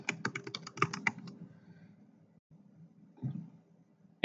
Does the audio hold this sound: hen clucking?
no